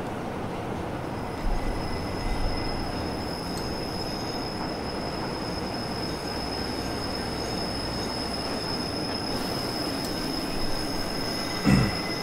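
A train on the Albula line rumbles steadily with a high whine and squealing wheels as it pulls into a small station, a constant rolling noise that ends with a brief clunk.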